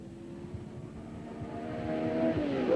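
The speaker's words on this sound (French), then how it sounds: "Bandini sur Ferrari est toujours troisième." Formula 1 race cars at the 1965 French Grand Prix, engines droning steadily and rising in pitch toward the end as a car draws nearer and grows louder.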